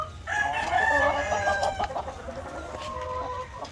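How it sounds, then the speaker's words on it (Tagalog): Five-year-old white leghorn chickens in a farm breeding pen cluck and crow loudly up close, the calls overlapping in a busy flock chorus. "Ito naman yung mga matatanda natin mga ka-farmers na white leghorn."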